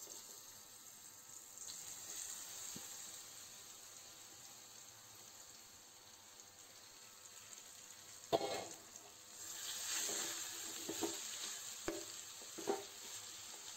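Grated apple sautés in ghee in a pan, giving a steady soft sizzle with a few sharper stirring scrapes and clatters toward the end; no one speaks.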